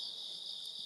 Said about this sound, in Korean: 이 귀뚜라미가